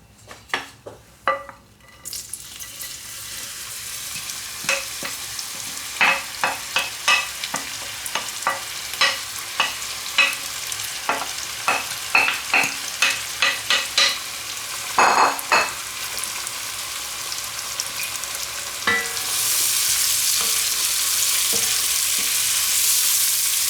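Leeks sautéing in oil in a pot, a constant sizzle under a run of rhythmic spoon taps and scrapes against the metal, growing into a louder hiss near the end, close and without talk.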